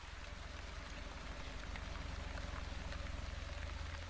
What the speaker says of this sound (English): Light rain. Rain falls upon Anbu,